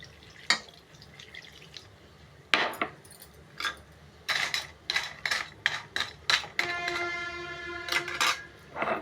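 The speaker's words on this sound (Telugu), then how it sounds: "కొంచెం వాటర్ వేద్దాం." Water is added to a kadai holding a cup of jaggery, heard as close drips and splashes mixed with clinks of metal utensils, irregular and fairly faint.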